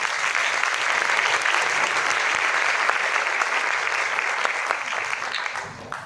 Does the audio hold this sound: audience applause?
yes